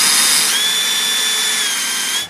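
A power drill drives screws into a garage desk and countertop during assembly, one steady loud whirring run for about two seconds that winds down at the end.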